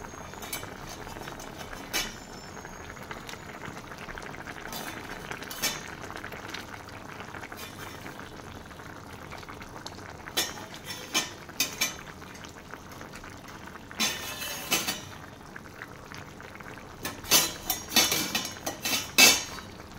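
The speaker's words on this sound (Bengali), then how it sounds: "শাকটা এবার ফুটে উঠেছে, এর মধ্যে এবার ডালের বড়িগুলো দিয়ে দিব।" Bottle gourd greens curry bubbling in a pot with water, a steady low boil that runs throughout, broken by scattered clinks of a spoon or utensil against the pot, loudest near the end.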